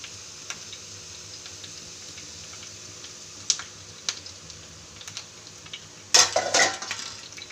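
Sautéed onions and masala spices fry quietly in a pan, with a low sizzle under scattered scraping and clinking stirring strokes and a louder burst of stirring near the end.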